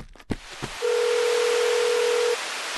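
After a few soft knocks, a telephone ringback tone sounds once as a steady, flat tone lasting about a second and a half during an unanswered call in an animated fairy tale.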